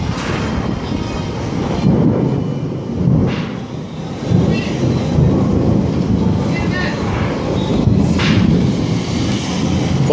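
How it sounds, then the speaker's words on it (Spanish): Thunder from an approaching storm rumbles on and off for about ten seconds, with low rolling booms and a few louder swells over steady background noise at the Siloé aerial cable car. "Hay una tormenta que se aproxima este domingo 6 de mayo de 2018."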